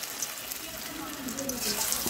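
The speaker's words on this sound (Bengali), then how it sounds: "আমি একটা দিয়ে ভেজে নিচ্ছি।" Pumpkin leaf fritters shallow-frying in oil over low heat give a soft, steady sizzling hiss that runs unbroken through the clip.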